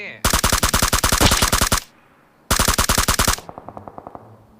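Two long bursts of rapid automatic gunfire from PUBG Mobile, loud and close, separated by a short pause and followed by a quieter, more distant volley, with no talk over it.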